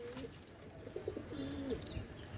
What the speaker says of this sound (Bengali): এক জোড়া কেটিএম টেডি কবুতর মাশাআল্লাহ